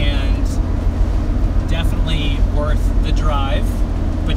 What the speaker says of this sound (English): Worth the drive, but you got to put up with all this traffic.